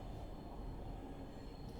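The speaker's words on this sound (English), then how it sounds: "That's a loud train." A loud train rumbles past in a steady, dense low roar that lasts throughout, with faint rail clatter and no voices.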